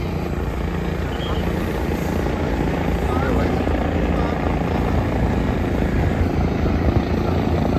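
A helicopter at the Kedarnath helipad in the Himalayas roars loudly and steadily throughout, its rotor and engine noise forming a constant dense wash with no breaks.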